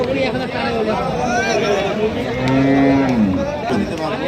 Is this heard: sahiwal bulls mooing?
yes